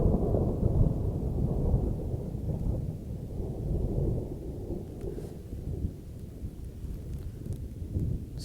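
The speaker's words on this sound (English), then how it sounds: "so it's crazily raining outside, and it might snow. Clouds are crazily screaming" Heavy rain and thunder outside a tent on a Himalayan trek, a continuous deep rumbling roll of thunder over dense rain hiss, loud and sustained throughout.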